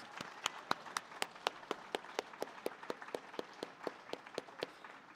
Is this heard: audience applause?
yes